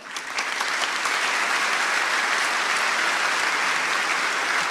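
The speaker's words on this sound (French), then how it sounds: "je vous demande d'applaudir Rodolphe Gelin" An audience at a robotics keynote breaks into sustained applause. The clapping swells quickly and stays dense and even to the end.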